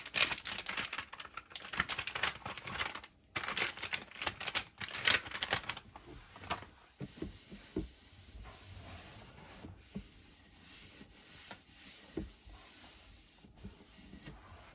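Cloth wiping and scrubbing across an empty wooden book cart shelf, with a dense run of brisk, close rubbing strokes early on that thin out into scattered lighter swipes and taps.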